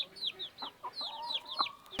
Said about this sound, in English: there's like a million chickens